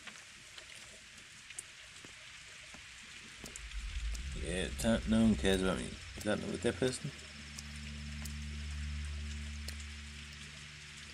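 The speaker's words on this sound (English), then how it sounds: "Why is it always fucking raining?" Steady rain falls in the video game Pathologic 2, a constant soft hiss that runs under a player's talk and later a low rumbling drone.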